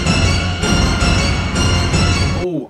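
A mobile phone ringtone blares at high volume in a classroom, a dense tonal jingle pulsing for about two and a half seconds before it abruptly stops.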